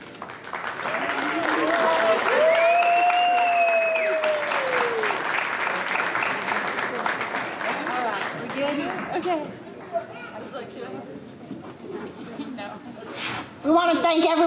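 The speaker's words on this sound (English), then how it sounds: "give these girls a round of applause" Audience applause at a girls' awards ceremony, a steady clapping crowd filling most of the stretch, with voices and cheering mixed in before it thins out toward the end.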